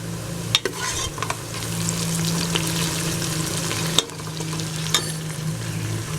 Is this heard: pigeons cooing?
no